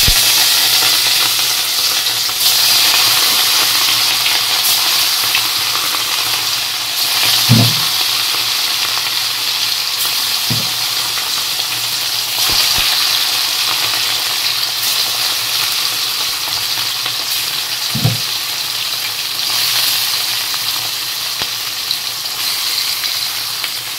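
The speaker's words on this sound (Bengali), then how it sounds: "তো তেল গরম হয়ে গেছে, এবার মাছগুলো দিয়ে দিব। মাছগুলো দিয়ে মাছগুলোকে ভাজা করে নেব।" Fish fry in hot mustard oil with a continuous loud sizzle and crackle, broken by a few brief thuds and scrapes of stirring or turning.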